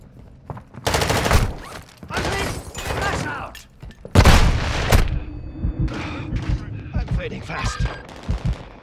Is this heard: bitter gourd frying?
no